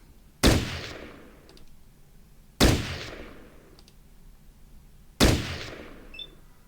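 Three sharp grenade blasts from the game Fallout Tactics, evenly spaced about two and a half seconds apart, each a sudden loud crack that fades into a short rumbling tail, with no voices.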